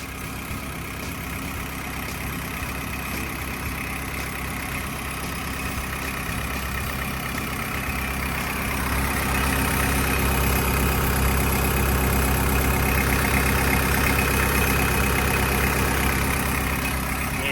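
A Caterpillar 305CSR 5-ton excavator's Mitsubishi S4Q diesel engine idles steadily throughout, a constant low rumble that grows slightly louder partway through, with no voices.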